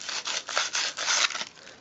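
Sandpaper is rubbed lightly across the inside edge of a clamp, giving a close, soft rasping scrape in short repeated strokes with no voices.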